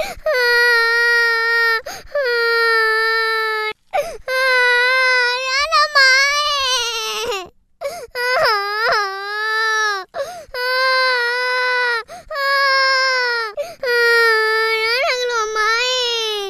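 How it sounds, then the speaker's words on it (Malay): A young girl cries and wails loudly and close up, a long run of drawn-out sobbing howls broken by brief gasps for breath. "Biarkan anak menangis."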